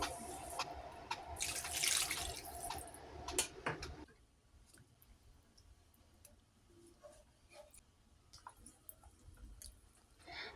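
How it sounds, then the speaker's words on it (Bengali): Water pours loudly into a pan of fried potatoes being cooked for a hilsa fish curry for about four seconds, then gives way to quiet kitchen clicks and faint drips. "এখন পানি অ্যাড করে দিব পানি দিয়ে দিলাম"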